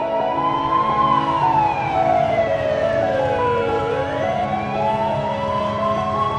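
An ambulance siren wails loudly and close by in a traffic jam, its rising and falling tone sweeping slowly over steady engine rumble.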